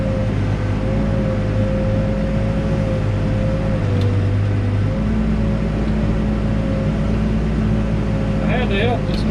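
A backhoe digs footings in soft sand, its diesel engine droning loud and constant with a steady whine, shifting pitch midway as it works, a voice talking over it at times.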